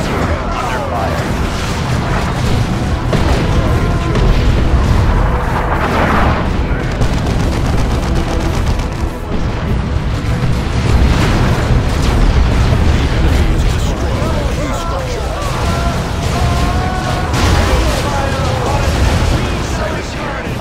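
Artillery fire and explosions in Warhammer 40,000: Dawn of War 2 – Chaos Rising, a dense, loud barrage of booms and bursts rolling on without pause under battle noise and voices talking.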